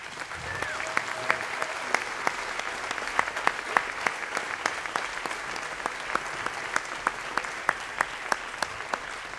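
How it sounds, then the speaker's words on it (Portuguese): Audience applause fills a concert hall at the end of a show in Angra do Heroísmo, steady dense clapping with sharper individual claps standing out, sustained throughout with no voices on top. "queria pedir mais uma salva de palmas para ele"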